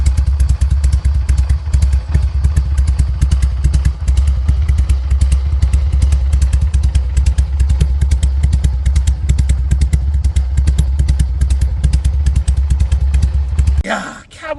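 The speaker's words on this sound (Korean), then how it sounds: "캐브 배기음 들어보겠습니다." A Harley-Davidson 883 with a carburetor and aftermarket exhaust runs loud and close for about fourteen seconds. It gives a steady, lumpy potato-potato pulse throughout and then cuts off abruptly.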